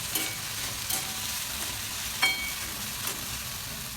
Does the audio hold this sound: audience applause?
no